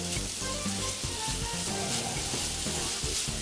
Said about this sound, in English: And I have some onion. And we're just going to sweat these and get these cooked down just a little bit.